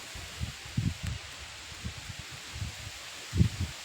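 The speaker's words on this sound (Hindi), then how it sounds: "हवा की सरसराहट।" Wind stirs leaves in a quiet village countryside, soft intermittent rustling gusts rising and falling at a close, low level with no talk.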